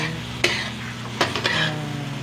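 Arroz Valenciana ingredients sizzle in a pan while a utensil stirs them, with a few sharp scrapes and knocks over a steady frying crackle.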